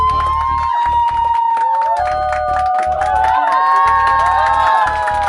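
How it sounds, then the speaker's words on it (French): Children at a camp cheer, shout and clap for the winning group after a treasure hunt, with excited voices rising and overlapping and bursts of clapping throughout. "On les applaudit."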